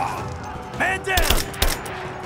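Gunfire in Rise of the Tomb Raider: a quick cluster of sharp shots with reverberant tails, alongside shouted voices over a rumbling game backdrop.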